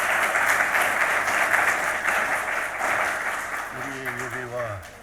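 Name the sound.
applause in church service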